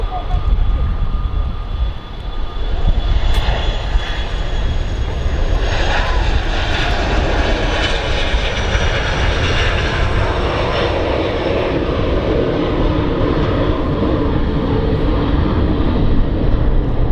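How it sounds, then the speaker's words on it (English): Logan Air plane on the runway at Manchester Airport: a loud, steady engine roar that holds throughout at close range, broad and rumbling, outdoors with no talk over it. "That Logan Air is on the runway now as well."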